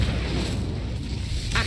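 An Incendio fire spell cast in the wizarding game Hogwarts Legacy gives a dense, roaring whoosh of flame with a heavy low rumble, loud and continuous, ending in a brief crackle.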